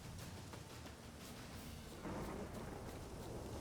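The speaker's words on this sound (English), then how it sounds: "A storm, damn it." A thunderstorm in the video game The Witcher 3 plays as a faint, steady wash of rain with a low rumble of thunder that swells a little halfway through, with no speech over it.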